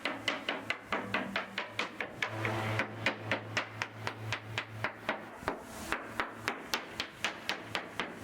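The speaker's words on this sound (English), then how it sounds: "So the hull was tapped with a hammer" A hammer strikes a steel boat hull in a steady series of sharp, ringing taps, about two per second, close and loud, continuing throughout.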